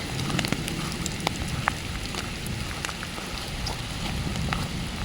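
Heavy rain pours during a storm at an outdoor fishing spot, a steady dense hiss with scattered crackling drops and no thunder or voices standing out.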